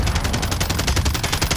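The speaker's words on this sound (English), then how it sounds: "Oh, I got hit by the sniper." Gunfire erupts during a sniper attack in a squad-based online shooter: a dense, steady stream of rapid, close shots that keeps up without pause.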